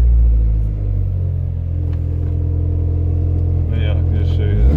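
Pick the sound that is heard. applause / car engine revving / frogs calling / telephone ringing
car engine revving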